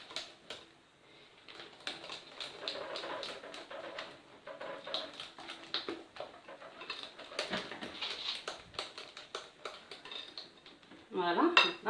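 A hand whisk beating pancake batter in a bowl, rapid rhythmic metallic clinking and scraping against the bowl, close and fairly steady, with a birdlike coo in the background and a louder clatter at the end.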